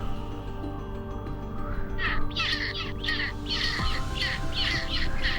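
Antarctic scavenging seabirds give harsh, rasping calls over a steady low rumble of wind, repeated about nine times in quick succession from the middle onward, fairly near.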